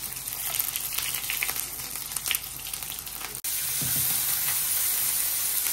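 Cumin, bay leaf, a dried chili, chopped ginger and a hilsa fish head frying in hot oil, a dense steady sizzle that flares louder after an abrupt jump partway through as the ingredients hit the pan, with faint stirring clatter.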